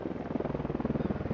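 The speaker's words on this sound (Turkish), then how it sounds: "Uçağı kaldır usta." Aircraft engine in the survival video game Sunkenland, a steady pulsing drone with a regular rhythmic beat, moderately close and heard alone.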